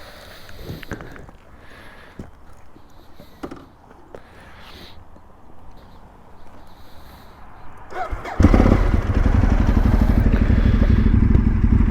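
Ducati 848 motorcycle, quiet wind and handling clatter at first, then the engine bursts into a loud, grunty, sustained roar for the last few seconds.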